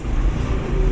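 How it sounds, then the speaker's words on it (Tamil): Dense road traffic in Mettupalayam with buses and bikes, a steady, loud rumble of engines and tires close by, with no break in the continuous noise. "டிராஃபிக்"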